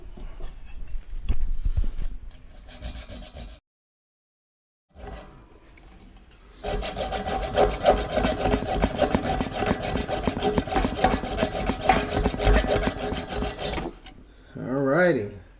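A tool cuts through a radiator pipe with rapid, rhythmic rasping strokes, close and fairly loud, broken by a short silent gap and then a long sustained run of back-and-forth scraping.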